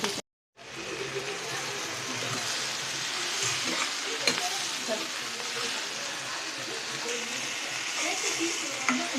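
Onions sauté in a pan for red chutney, a soft continuous frying hiss with occasional faint stirring scrapes, fairly quiet and close, after a brief moment of silence at the start.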